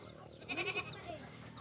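A single short goat bleat rises briefly over quiet background noise, fairly faint and close.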